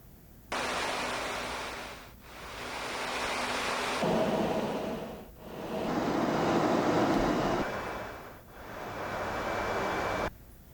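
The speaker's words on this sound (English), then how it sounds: "Let's take a look here, for example, at the airframe wind." Airframe wind sound effect from the FSRealistic add-on in Microsoft Flight Simulator, a broad, steady rushing roar that swells and fades in long surges with brief dips, heard alone.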